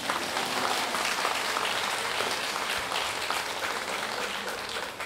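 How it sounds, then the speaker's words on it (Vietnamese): Congregation at a thanksgiving Mass for a priest's 25th anniversary bursting into dense, sustained applause, many hands clapping close and loud with no break, fading slightly at the end. "Vỗ tay."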